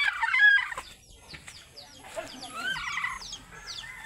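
A hen and her chicks cluck and peep up close, with high chirps scattered throughout and a voice occasionally speaking underneath.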